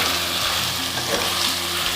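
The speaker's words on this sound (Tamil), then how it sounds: "பீன்ஸு, கேரட்டும் நல்லா மிக்ஸ் பண்ணி விட்டுக்கலாம்." Beans and carrots sizzle steadily in a hot pan while a spoon stirs them, a close, continuous frying hiss with soft scraping, and no speech.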